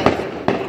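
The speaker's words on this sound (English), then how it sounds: "There's the fireworks." Two sharp firework bursts from a 4th of July celebration, spaced about half a second apart, each a loud broadband crack followed by a brief decaying rumble.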